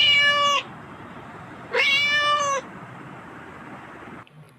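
A cat meows twice, two drawn-out, clear cries separated by a short pause, loud and close against a quiet background.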